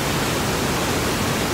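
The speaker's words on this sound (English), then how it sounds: "Probably because it's raining." Steady, dense hiss of falling water at the Cave of the Winds, Niagara Falls, filling the whole clip, even and unbroken, with no voices.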